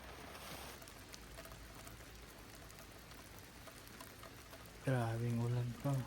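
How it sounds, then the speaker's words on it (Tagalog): Heavy rain falls steadily on a campsite during car camping with a minivan, a constant dense patter that holds throughout, with a person speaking loudly near the end over the downpour. "Grabing ulan pa."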